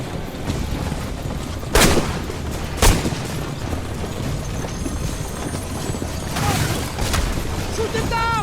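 Gunfire in an Assassin's Creed Brotherhood game cutscene, two sharp booming shots a second apart among a busy rumbling battle din, with voices present.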